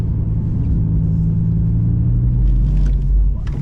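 A 1,000-horsepower rear-wheel-drive Audi R8 RWS drives slowly, its engine a deep, steady rumble close by with a slight rise in revs near the end.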